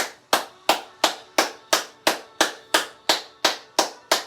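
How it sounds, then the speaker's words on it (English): Hands clap together in a qigong session: twelve sharp, evenly spaced claps at a steady, moderate tempo, close and clear, each followed by a brief decay, with no talking. "Clap our hands together."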